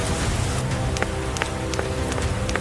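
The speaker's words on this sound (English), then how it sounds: "It starts to rain, and Peppa and George watch the drops roll down the window like tiny mirrors." Rain falls steadily in a Peppa Pig cartoon scene, a dense continuous patter with scattered brighter drop ticks throughout, no talking.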